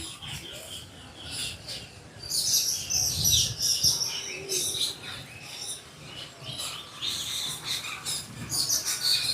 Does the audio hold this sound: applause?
no